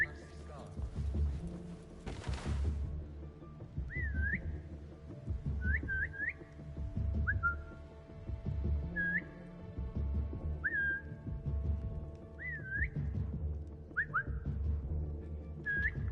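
A guard whistles in Assassin's Creed Mirage, a series of short rising whistle chirps repeated every second or two over low ambient game noise and background clatter, preceded by a brief burst of sound.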